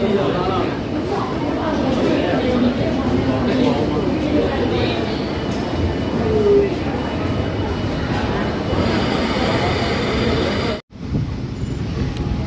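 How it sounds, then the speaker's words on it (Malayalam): The West Coast superfast train pulls away from Coimbatore Junction, heard from on board as a continuous loud rumble of wheels and carriage noise, with voices talking over it and a brief cut near the end. "കോയമ്പത്തൂർ ജംഗ്ഷനിൽ നിന്ന് ട്രെയിൻ ഡിപ്പാർട്ട് ചെയ്തിരിക്കുകയാണ്."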